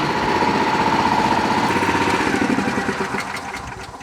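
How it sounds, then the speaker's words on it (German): A Pluk-O-Trak orchard machine with a suspected slipping V-belt runs loud and close, a steady droning engine with a high whining squeal over it that eases off slightly toward the end. "Irgendein Keilriemen wird es sein, das hört sich ja stark danach an, dass irgendwas rutscht hier."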